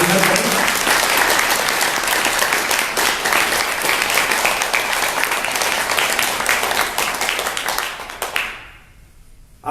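An audience at a mindful breathing session breaks into loud, continuous clapping that holds for about eight seconds, then quickly fades to near silence.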